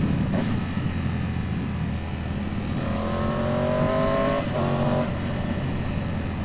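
A Triumph Tiger 850 Sport motorcycle engine spins up on a wet road in Wales, a loud continuous roar whose pitch climbs in rising sweeps before easing, heard up close with steady wind noise and no talking.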